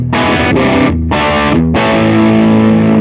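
Distorted electric guitar on the bridge pickup through a Vox AC30 amp plugin: three loud, close chord strums, the first two cut short and the last left to ring with fuzzy sustain.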